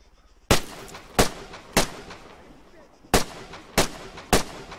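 Aircraft strafing runs in the multiplayer military game Arma 3: six sharp, loud gunfire bursts spaced about a second apart, each ringing out with a short tail over a low engine-like background.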